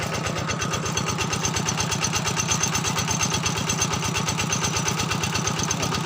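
A tractor engine chugs steadily at close range, a loud, even, rhythmic low thumping with no pauses.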